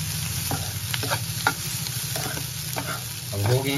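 Egg fried rice with lemon being stirred and tossed in a pan over low gas, giving a continuous crackling sizzle with repeated scraping strokes, close and fairly loud, with no talking.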